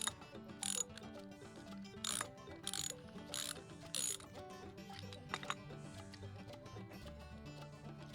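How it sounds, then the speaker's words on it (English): A tool ratchets as four Torx screws come out of a Craftsman edger's carburetor cover, with quick bursts of clicking repeated in a loose rhythm, close and quiet, with faint background music or hum underneath. "Access to the diaphragm is gained by removing these 4 Torx screws"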